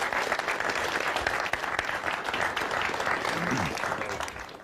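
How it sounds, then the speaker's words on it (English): A crowd applauding: dense, continuous clapping at full volume throughout, tapering slightly at the end. "Why are you clapping?"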